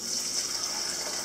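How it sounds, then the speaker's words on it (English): Cool turkey brine that was chilled with ice pours steadily into a bag holding a turkey, a continuous close watery gush with no pauses. "Ethan's going to go ahead and pour the brine in on top."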